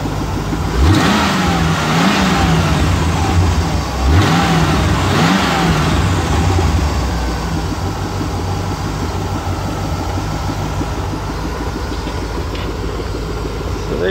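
Manual-transmission Corvette engine revving in a few rising and falling bursts over the first several seconds, then settling into a steady idle rumble; close and fairly loud, with no talking.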